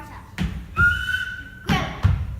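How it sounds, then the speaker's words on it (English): A single sustained whistle blast, blown to summon children in a film, rings out clearly for about a second between dull thumps and rustling sounds. "I couldn't answer to a whistle"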